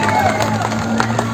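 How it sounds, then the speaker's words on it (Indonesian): A crowd applauds and cheers at a send-off ceremony for a sports contingent, a dense, loud, continuous roar of clapping and voices with some babble mixed in. "Sekali lagi tepuk tangan untuk kita semuanya."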